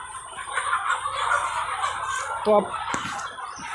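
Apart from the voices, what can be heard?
chickens clucking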